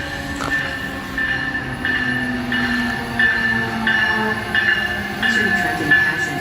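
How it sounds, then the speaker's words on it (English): Amtrak train at Trenton Transit Center, a steady rumble of railcars rolling past nearby with faint wheel squeal and repeated clicking over the rails, continuous throughout. "That's a nice locomotive"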